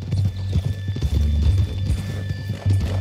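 Rhythmic clip-clop of horse hooves with a whinny in Red Dead Redemption 2, the steady hoofbeats close and loud throughout with a neigh rising over them.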